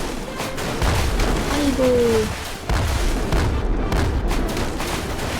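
Cannon shots boom in the Roblox game Rusty Rafts, several heavy blasts rolling out in quick succession under an excited voice talking over the gameplay.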